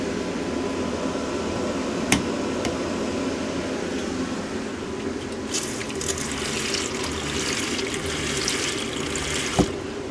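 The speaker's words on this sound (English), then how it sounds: "Water's all flowing." Steady rushing water runs through motorcoach plumbing with a constant background hum, punctuated by a couple of sharp clicks or knocks, with the furnace and pump running.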